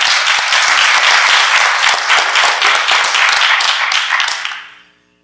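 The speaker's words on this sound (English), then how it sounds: "So please, a hands of applause to all these guys" Conference audience applause at a Kali Linux presentation, a dense, steady wash of many hands clapping that holds for about four seconds and then fades out to silence.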